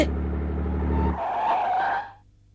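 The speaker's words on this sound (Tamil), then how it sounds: "காரை நிறுத்து, நிறுத்து." A car brakes hard and skids to a stop. A loud engine roar turns into a screeching tire squeal, which then fades out abruptly.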